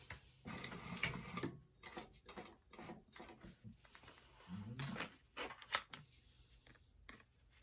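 Short bursts of a sewing machine back stitching a leather bifold wallet, a few quick stop-start runs of needle clatter at close range with brief pauses between them.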